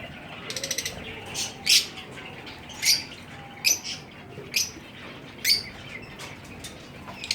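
Sharp, shrill lovebird squawks and chirps burst out several times in an irregular pattern, fairly close, over a quiet background.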